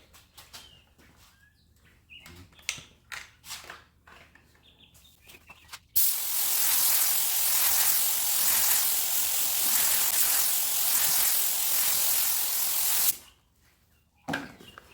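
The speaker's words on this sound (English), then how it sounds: "just spray the rest of the gun." A steady, loud hiss of a spray gun blasting gold pearl paint for several seconds, preceded by quieter clicks and handling noises, then cutting off abruptly.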